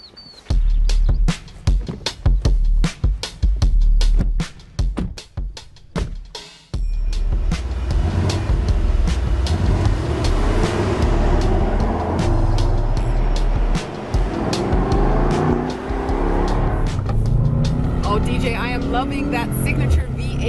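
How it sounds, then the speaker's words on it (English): A 2021 Mercedes-AMG E63 S with a twin-turbo V8 drives off, its engine note rising into a loud, steady roar after a few sharp knocks and door sounds at the start, with people talking over it. "the sound comes from our V8 twin turbo engine"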